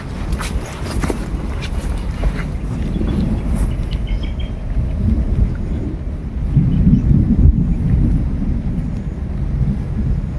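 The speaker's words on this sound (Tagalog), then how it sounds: "Grabe yung ulan." Heavy rain pouring steadily with a low rumbling wash, wind buffeting the microphone, and occasional distant thunder-like booms.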